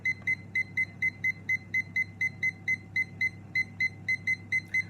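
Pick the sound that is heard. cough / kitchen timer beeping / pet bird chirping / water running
kitchen timer beeping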